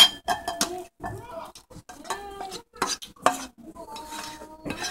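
Shrimp, zucchini and mushrooms being sautéed in a pan, with a utensil stirring and clinking against the cookware in short irregular bursts, close and fairly loud, under intermittent talk.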